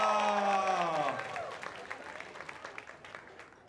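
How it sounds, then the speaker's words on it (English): A comedy club crowd claps and cheers, loud at first over a fading voice-like tone, then thinning into scattered claps that die down over a few seconds. "Married people, clap your hands."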